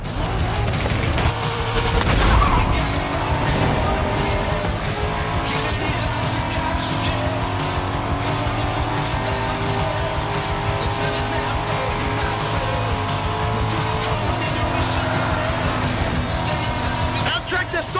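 Car driving in Forza Horizon 5, a steady engine drone with tire noise running throughout, loud and continuous, with game voices over it.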